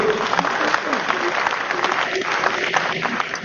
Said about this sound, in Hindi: ये हमारा डायबिटीज केयर पैक, इसके लिए जोरदार ताली होनी चाहिए